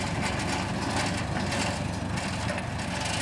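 A tractor engine drones steadily and heavily while lifting a steel beam onto a flatbed on Christmas Eve, a continuous low rumble with no pauses.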